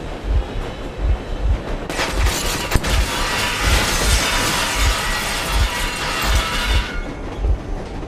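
A train engine runs in the video game Metro Exodus, a loud steady rumble with regular rhythmic low thumps, joined midway by a harsh metallic clatter and rattle that lasts several seconds before easing.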